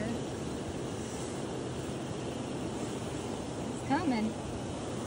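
Steady broadband rush of river water flowing behind an old cotton mill ruin, even and continuous, with a brief spoken voice near the end.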